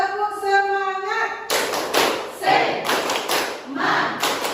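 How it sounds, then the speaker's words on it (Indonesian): A university class performs a rhythmic 'tepuk semangat' clapping chant: a voice calls out first, then a group breaks into loud patterned claps and slaps mixed with chanted voices. "Bagaimana kalau kita tepuk semangat?"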